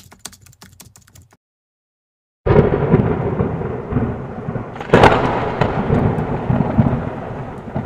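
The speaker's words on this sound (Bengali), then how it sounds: "মাঝরাতে হঠাৎ মুষলধারে ঝড় বৃষ্টি শুরু হয়ে যায়।" A cartoon thunderstorm at midnight bursts in after a short near-silent gap: a loud, sustained roar of heavy rain and wind with rumbling thunder, swelling again toward the end.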